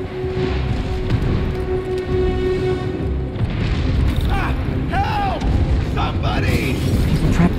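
Bomb explosions in the Spider-Man Remastered video game, deep rumbling booms rolling continuously under dramatic game audio, with voices speaking over the blasts and whooshing effects later on.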